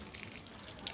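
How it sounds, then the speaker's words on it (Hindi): Water runs steadily from a village tap in rural Bihar, a continuous hissing splash at low level with no other sounds over it. "नल चालू करके पानी ले रहा है हर घर में इस सीजन में।"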